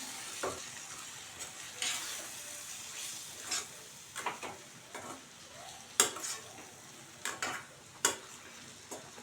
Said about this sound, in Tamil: இதெல்லாம் நல்லா ஒன்று சேர நம்ம வதக்கி விட்டுக்கலாம்